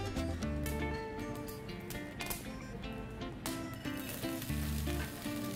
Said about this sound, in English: The raw coffee beans are washed and then roasted on a flat pan until the beans are shiny and black.